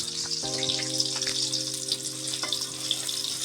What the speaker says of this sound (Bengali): এই যে দেখো পেঁয়াজ এগুলাকে এখন নাড়া হবে যে নেড়ে নিচ্ছে একদম ভালো মতো